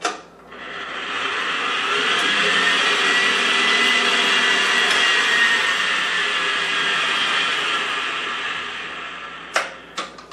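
An electric mixer blending low carb pecan pie cheesecake filling, a steady loud whirring drone that ramps up, holds for about nine seconds and then stops, followed by a couple of clicks.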